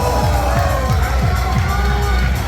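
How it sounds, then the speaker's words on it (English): A crowd at a Pump It Up dance game tournament cheers and shouts continuously, loud and close, with a steady rhythmic thump of game music underneath. "They cheer when the combo is high."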